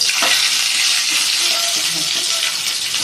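Mustard seeds and cumin crackle in a spoonful of hot oil for a Kannada-style broad bean palya, a close, busy sizzle holding steady throughout.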